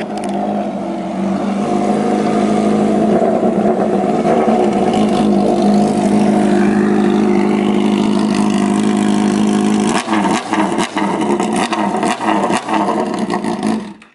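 A Honda CBR motorcycle with a loud, nearly straight-through open exhaust drones at a sustained high rev for several seconds, then breaks into sharp, choppy throttle blips near the end, very loud and close with no talk.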